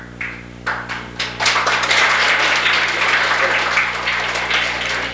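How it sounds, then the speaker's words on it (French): Audience applause at a school reading event: a few scattered claps at first, then a full room of clapping swells to a steady, dense roar and holds to the end, with a low electrical hum beneath. "On va limiter les applaudissements."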